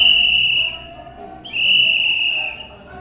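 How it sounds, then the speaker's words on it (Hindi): A field signal whistle gives two long, steady, shrill blasts with a short gap between them, loud and close, marking the air raid all-clear during NCC cadet training. "2 लंबी लंबी सीटी है, और 5 सेकंड के बाद फिर 2 लंबी सीटी है"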